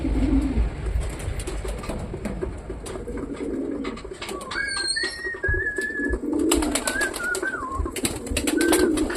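Giribaz pigeons coo in soft, repeated calls close by, layered with higher chirps from other birds and a constant rustling background. There is no talk.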